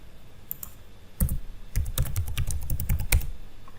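Typing a username and password into a WordPress login page on a computer keyboard: a close, fairly loud run of key clicks in quick irregular bursts, alone with no voices.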